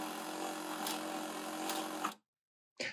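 A Bernina B770qe sewing machine winding a bobbin gives a steady, moderately quiet mechanical whir that cuts off abruptly, then a brief short rustle or click after a moment of silence.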